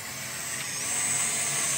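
A small camera drone hovers and comes in to land, its rotors giving a continuous high-pitched whine that holds steady and grows slightly louder, with no voices.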